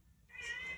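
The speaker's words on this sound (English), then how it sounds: "I know. That's my cat." A pet cat gives a single short, faint meow, close by and alone in a quiet room.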